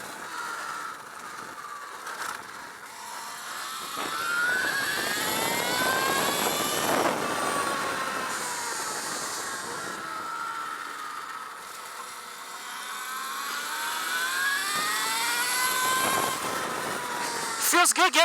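An Alta Redshift SM39 electric supermoto under throttle on the Desert Park Raceway track, a high electric motor whine rising and falling in pitch with each acceleration, fairly loud and steady with wind buffeting throughout.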